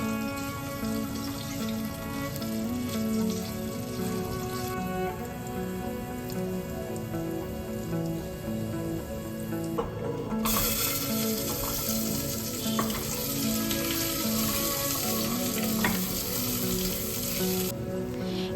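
Chopped garlic, potatoes and carrots fry in hot oil for tomato soup, a continuous close sizzle with scraping stirring strokes, and rain patters in the background throughout with no talking.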